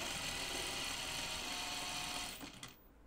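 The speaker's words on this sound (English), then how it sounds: "I'm just roll hemming" Sewing machine roll hemming the edge of a Scout Tee, a steady continuous mechanical whir running close and loud for most of the stretch before it slows and cuts out near the end.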